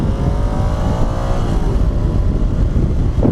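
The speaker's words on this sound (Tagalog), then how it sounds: "Tinignan ko yung tambutso niya, akala ko inline 4 pero single cylinder pala to." Loud, steady single-cylinder motorcycle exhaust drone close by, a low rumbling thrum with slight pitch wavering throughout.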